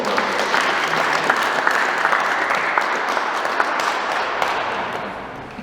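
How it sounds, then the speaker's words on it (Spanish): Guests at a 50th birthday party applaud the celebrant, a loud, dense wash of clapping from a close crowd that carries on steadily and eases off slightly at the end. "un fuerte caluroso voto de aplausos para nuestro cumpleañero."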